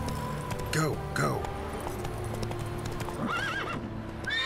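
In The Witcher 3 video game, hooves clip-clop at a steady gallop while a horse whinnies several times, shrill and close, over a continuous ambient background.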